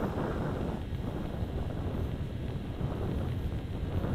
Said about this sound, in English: Wind's picking up a bit.